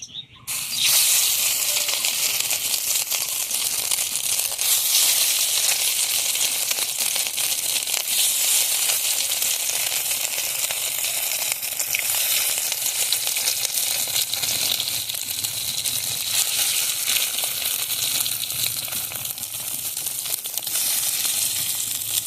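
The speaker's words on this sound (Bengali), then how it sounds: "তেল গরম হয়ে গেছে এখন বড়াগুলো ভেজে নেব" Bora fritters frying in hot oil make a loud, steady, crackling hiss close by that holds almost unchanged for over twenty seconds, with no talk.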